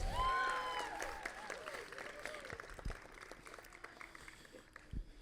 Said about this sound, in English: Guys, another round of applause for Patricia and Raymond